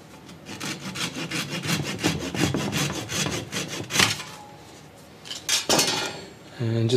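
A hand saw trims a wooden peg flush against a bubinga ledge, making a quick rhythmic run of rasping strokes, then a pause and a few final cuts, close and loud.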